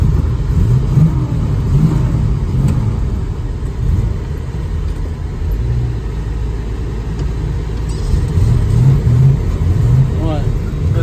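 A 1955 Studebaker Champion's engine runs steady and loud from inside the car with the air conditioning on, a continuous low rumble with mild rises in revs, while people talk over it.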